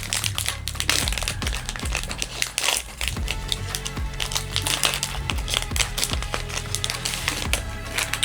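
Crinkling and crumpling of a Magic The Gathering TMNT booster pack wrapper being torn open and handled, close and continuous with sharp crackly bursts and soft thuds, no voices.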